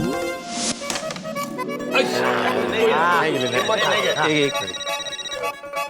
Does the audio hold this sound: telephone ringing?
yes